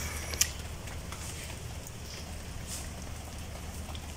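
Steady rain falls outside a house with a garden and koi pond, a constant soft patter and hiss that runs the whole time, with no voices.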